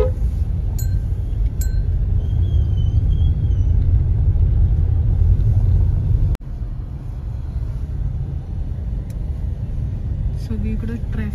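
Steady low traffic rumble on a busy city road after rain, with vehicles passing nearby, a faint clink, and a voice talking over the noise.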